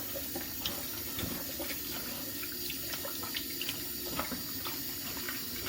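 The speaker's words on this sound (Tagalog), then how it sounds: "Mag-init tayo ng tapos hugasan natin." Food is washed under a running tap, with a steady stream of water splashing close by and small irregular spatters and drips over the flow, no voices.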